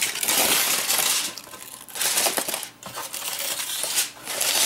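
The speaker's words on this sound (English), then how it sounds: "A plastic film." Thin plastic film crinkling and rustling as it is handled beside an oven-roasted brisket, bursts of close, crackling noise with brief pauses between handfuls.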